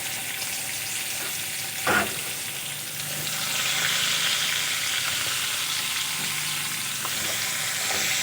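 Thinly sliced onions fry in a pan with a steady, close sizzle, broken by one sharp clink near the start and a few soft stirring scrapes, with no voices.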